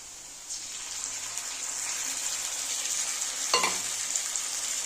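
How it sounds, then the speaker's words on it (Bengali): Fried potatoes sautéed in a pan with ginger-cumin paste and dried chili paste, a bright continuous sizzle with a brief scraping stir partway through, close and fairly loud, with no talking. "এবারে ভালো করে কষিয়ে নেব"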